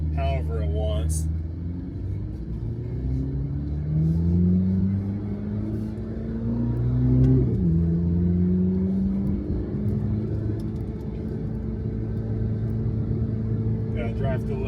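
A 2026 Chevrolet Corvette C8 ZR1 accelerates hard, its engine note climbing in pitch through rising sweeps with a deep rumble beneath, heard up close and loud for the whole stretch.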